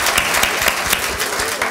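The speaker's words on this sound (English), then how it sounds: "Y'all give her a hand clap." Loud, dense applause from a church congregation for a pastor at a 15-year celebration, close and continuous through the short stretch.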